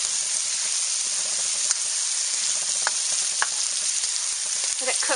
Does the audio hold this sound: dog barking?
no